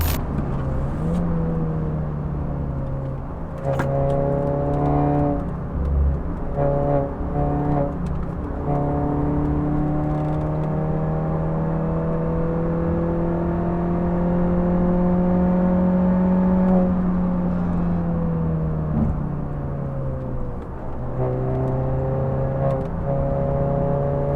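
A Seat Leon FR car engine with Stage 1 tuning hums and revs steadily, its pitch rising and falling with acceleration over a long stretch, no talking.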